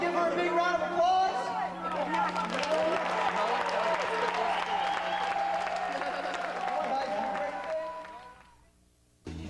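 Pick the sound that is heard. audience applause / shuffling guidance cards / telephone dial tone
audience applause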